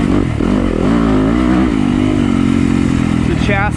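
A Yamaha YZ250FX dirt bike engine roars loudly while being ridden, holding a steady high rev with pitch rising and shifting, and a voice talks over it.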